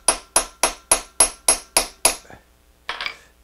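Hammer setting a rivet or eyelet in leather work, eight sharp, evenly spaced metallic strikes close up, followed by a pause and one softer rattling knock.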